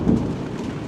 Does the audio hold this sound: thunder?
yes